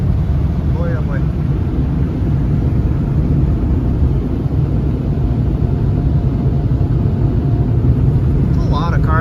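An automatic car wash running over a Cadillac Coupe DeVille, heard from inside as a loud, continuous rumbling wash of water spray and brushes, with people talking under it.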